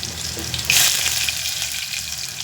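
Mustard seeds hitting hot oil in a home kitchen for Maharashtrian masoor dal, a sudden loud hiss and sizzle bursting up, then settling into a steady crackling fry with no voices.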